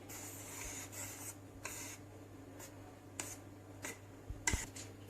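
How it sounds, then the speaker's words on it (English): A whisk scrapes and swishes through a semi-set coffee ice cream mixture in a bowl, in short repeated bursts of strokes over a steady low hum, close and fairly soft. "we're going to just whisk it a little bit"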